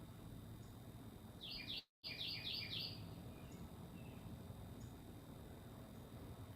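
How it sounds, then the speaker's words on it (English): Birds sing outdoors in a faint, distant series of quick high chirps clustered in a couple of short bursts over steady low background noise, with a brief dropout in the middle. "We'll see if it can pick up the bird songs. They're so pretty."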